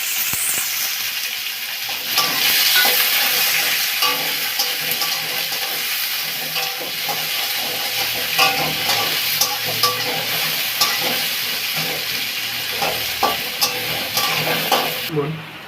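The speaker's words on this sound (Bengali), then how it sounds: "পেঁয়াজগুলো তেলের মধ্যে দিয়ে দিলাম।" Onions sizzling in hot oil, frying until reddish-brown for a catla fish curry, with a steady frying hiss and occasional stirring clatter of a utensil against the pan.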